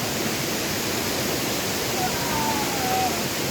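A waterfall roars in a broad, unbroken hiss of falling water, loud and close, steady throughout with no talking.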